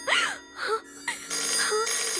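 A warbling electronic ringtone plays close by in short repeating bursts, with a brief gap between phrases.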